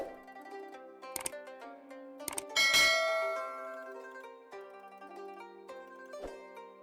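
A bright notification bell chimes several times over a steady musical background, with a sharp cluster of clanging rings near the middle that rings out and fades.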